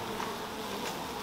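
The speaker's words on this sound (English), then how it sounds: "Let's dump bees on it." A dense, steady buzz of many honeybees swarming close by, continuous with no pauses.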